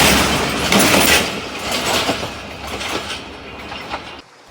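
A train pulls away at a Pakistani railway station, its wheels clattering in a rhythmic clickety-clack with metallic rumble, close and loud, before the sound cuts off near the end.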